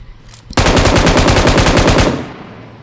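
A sustained burst of rapid machine gun fire in a multiplayer shooter video game, loud and close, lasting about one and a half seconds before cutting off.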